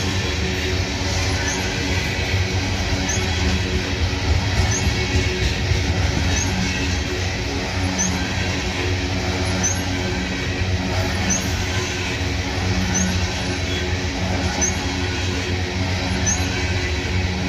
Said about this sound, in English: It's a railroad track rubbing on the inside of a pipe.